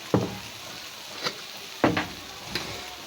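Goat meat fries with turmeric and spices in a dry pan without added water, giving a low, quiet sizzle. A few sharp spoon scrapes and clacks break in as it is stirred.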